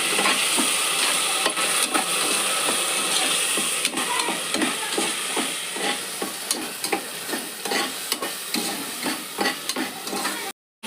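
Ground green chili masala paste fries in oil for a green chili masala pulao, sizzling steadily close by while a utensil scrapes and stirs in a regular rhythm, with a brief silent gap near the end.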